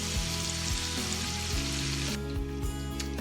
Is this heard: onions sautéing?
yes